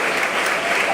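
A ceremony crowd at a spring colloquium applauds, steady dense clapping filling the entire short moment, loud and continuous.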